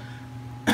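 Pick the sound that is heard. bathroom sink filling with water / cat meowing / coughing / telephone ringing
coughing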